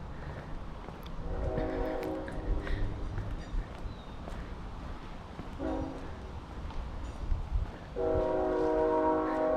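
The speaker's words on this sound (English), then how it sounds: "You can hear the train that can be heard throughout the city, even on the other side of town." A train rumbles through a city with its horn sounding in several long blasts, carrying over the steady rolling of the cars from some distance away.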